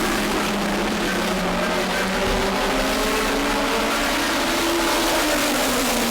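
Race cars in a New England short-track race sweep through a corner, several engines blending into a loud, sustained roar that holds steady and close throughout.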